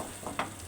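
Egg frying with potato and no onion gives a quiet, steady sizzle in a pan, with a couple of brief soft stirring scrapes rising above it.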